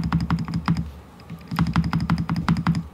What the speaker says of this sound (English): You can hear the ceramic clang, like the ceramic clingy sound to it, like the ceramic bell sound